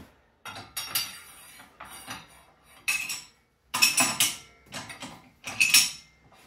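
A steel handlebar is pulled from a bender and flipped over, giving a run of separate metallic clanks and rattles, close and fairly loud, with short quiet gaps between them.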